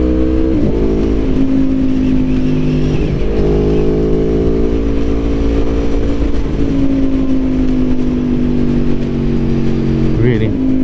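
A 2021 Aprilia Tuono V4 Factory accelerates hard, its loud, close V4 engine droning with rising pitch through several quick gear shifts over constant wind rush.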